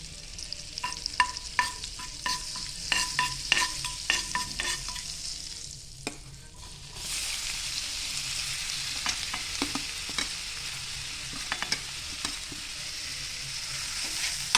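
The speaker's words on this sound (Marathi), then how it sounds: "आता आपण त्यात कांदा टाकलेला आहे, तर आपण थोडंसं असं परतवून घेऊया" Finely chopped onion sizzles in butter and oil while a spatula taps and scrapes the pan in quick, close strokes, then settles into a steady, bright frying hiss with occasional stirring clicks.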